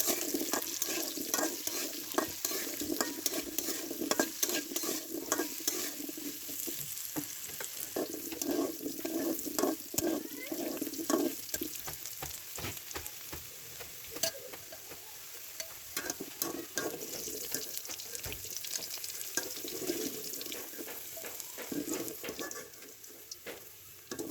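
Potatoes fry and sizzle in hot oil in a wok while being stirred, a steady crackling hiss broken by scraping stirs, alone with no talk, for a duck curry with new local potatoes.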